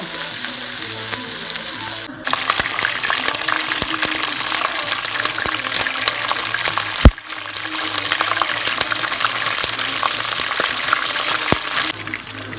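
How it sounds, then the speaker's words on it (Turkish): Onions fry in a pan for eggplant frying, giving a steady, close, broadband sizzle with occasional stirring scrapes, and a brief dip and sharp click partway through. "Soğanı da qızardaq."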